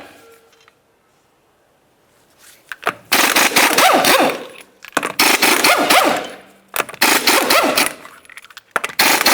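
An impact tool spins off the 19mm lug nuts on a Ford Flex rear wheel in three loud, rattling bursts after a quiet start, each burst several seconds long with short gaps between, recorded up close.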